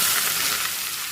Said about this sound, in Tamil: வெங்காயம் நல்லா ப்ரௌன் கலர் ஆகிற வரைக்கும் வணக்கணுங்க